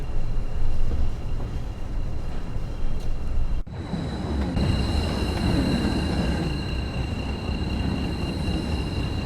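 A Class 20 diesel train on the Tees Valley Line in Train Sim World 3 cruises along with a steady rumble and rail noise, a sharp shift in the sound partway through, then continuous rolling.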